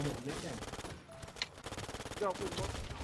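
Rapid automatic gunfire in a video game, a fast even rattle of shots that pauses briefly and then resumes, heard up close with excited voices talking over it.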